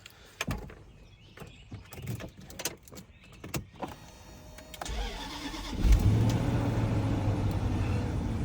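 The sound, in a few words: Range Rover L322 supercharged engine cold start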